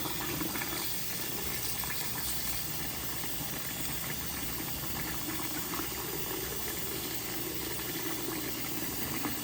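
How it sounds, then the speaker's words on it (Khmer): A pot of water for fish curry boils at full heat, giving a steady, dense hiss and bubbling that holds at an even level without a break. "ទឹកនេះក្តៅដល់ពុះ"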